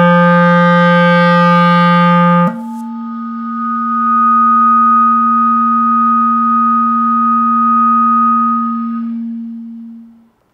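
A wind instrument first holds a loud, steady buzzy tone, then after a key is added it shifts abruptly into a multiphonic, a clear sustained pure-sounding chord that holds for several seconds before fading out, played alone with no talk.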